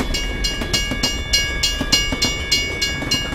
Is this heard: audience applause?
no